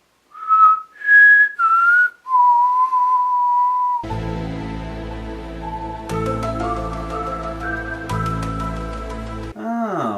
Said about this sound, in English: let's whistle that X-Files-like theme song